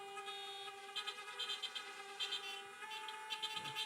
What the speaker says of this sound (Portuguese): Se é, buzina aí